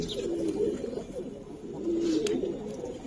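Pigeons, colored Giribaz breed, coo in a steady low rolling murmur, near and moderately loud, with overlapping calls throughout and faint chirps above.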